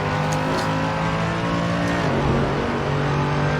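A Mercedes AMG GT3 race car at Daytona roars loud and close as its engine accelerates, the pitch climbing and then dropping briefly between gears.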